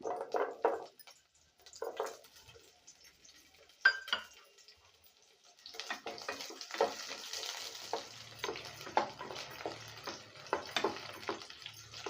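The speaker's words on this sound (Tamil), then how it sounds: "வெங்காயம் நல்லா வதங்கிடுச்சு" Small shallots sauté in a pan with curry leaves, first in quiet separate sizzling spurts, then settling into a steadier, fuller frying crackle with small pops and stirring noises.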